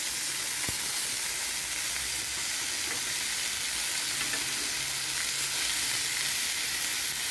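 Steak sizzles while grilling in a pan, a loud, steady hiss and crackle of frying fat running continuously, close up, with no talking.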